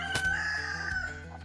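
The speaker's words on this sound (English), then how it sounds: "In between the rooster uproars" A rooster crows loudly and close by, one long drawn-out call followed by a second shorter crow, with clucking from other fowl in the background.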